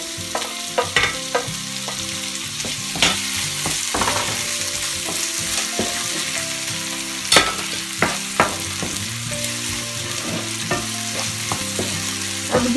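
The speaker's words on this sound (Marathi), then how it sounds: "आता आपण त्याच्यामध्ये चिरलेले टोमॅटो टाकून घेऊ।" Chopped tomatoes hit a pan of onions already frying with a little salt, setting off a steady sizzle with scattered stirring scrapes and clinks, close and continuous, with no one talking.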